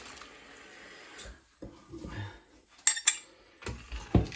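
Ingredients tipped into a pan for pie and peas, with clinking utensils: sparse close metallic chinks and scrapes, a few brighter clanks and soft shuffling thuds against a quiet kitchen background.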